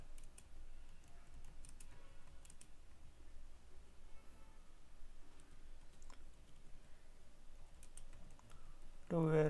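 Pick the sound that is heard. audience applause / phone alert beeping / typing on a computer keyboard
typing on a computer keyboard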